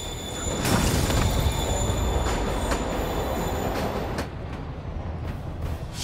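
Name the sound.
train moving away in the video game Spider-Man Remastered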